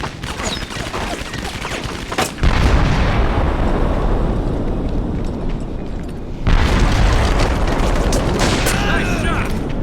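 Loud gunfire and explosive booms from the World War II shooter Medal of Honor Vanguard, dense continuous battle noise that swells sharply near the start and again later, with heavy low rumble throughout.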